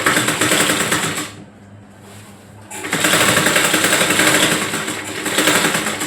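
Sewing machine stitching a little girl's frock, a loud, close, rapid mechanical whir that runs steadily, pauses briefly for about a second, then resumes at full speed.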